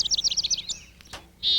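A chickadee calls at a backyard feeder in winter, giving a rapid run of high, thin chirps followed by a short, clear whistled note, close and alone.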